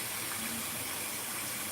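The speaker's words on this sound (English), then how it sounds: "Now let's get that water running. Get the water nice and warm." Warm tap water running steadily from a faucet into a basin to prepare a cat bath, a constant close gushing stream with no other sounds.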